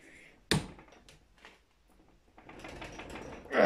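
A wrench tightens a bolt by hand on a Piaggio Ciao moped with a 50cc DR kit: a sharp knock, then faint ratcheting clicks and scrapes, quiet and close, with no talking.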